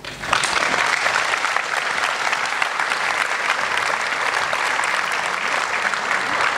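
Steady, dense audience applause fills a lecture hall on cosmology and creativity, loud and sustained throughout without a break and with no talk over it.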